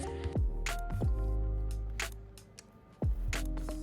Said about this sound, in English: I'm gonna put cream on my hands